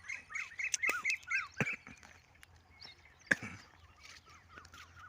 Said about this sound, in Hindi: जो पक्षी है उनकी आवाज़ भी आपको सुनाई दे रही होगी।